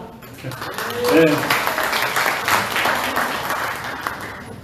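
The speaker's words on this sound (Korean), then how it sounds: "박수가 너무 작네요" Modest applause from residents at a community briefing meeting rises quickly and continues at a moderate level, with a voice briefly heard over it.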